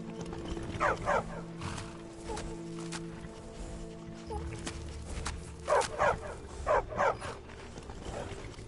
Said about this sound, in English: A war dog is good company and good protection.